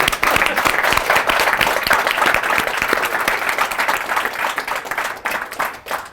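A room full of people bursts into sustained applause to welcome a new community member at an evening gathering in Lisbon, dense and steady throughout before thinning slightly at the very end.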